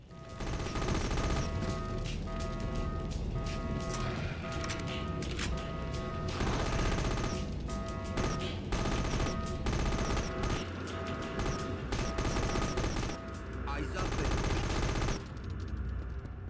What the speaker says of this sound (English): The shooting in Dredd feels good. The weapon sounds are decent